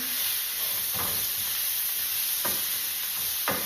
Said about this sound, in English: Can you see how they're getting burnt and seared, not steamed?